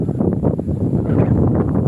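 Steady, loud wind roaring and buffeting the microphone across an open field, a dense rushing noise with no pauses and no voices.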